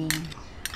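A metal spoon scrapes and clinks against a jar or bowl while scooping bagoong for an eggplant salad, two brief bright clatters near the start and end of a short quiet moment.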